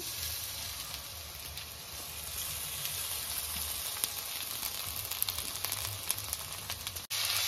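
Rice and lentils frying in oil with chopped onion and garlic for khichdi, a soft, even sizzle with faint crackles throughout, heard alone and fairly quiet.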